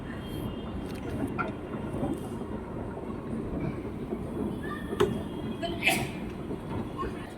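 A metro train rumbles through a station, a continuous clattering roll with a few sharp metallic clicks and squeals, heard from nearby amid faint background chatter.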